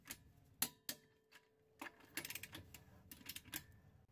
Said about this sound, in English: you will know it reached the set torque value by the audible clicks you get back from the torque wrench